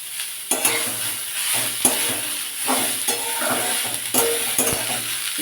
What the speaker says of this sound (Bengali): এবার এগুলোকে দিয়ে দিলাম গ্রেট করা তরমুজের এগুলোকে ভালোভাবে নাড়তে থাকবো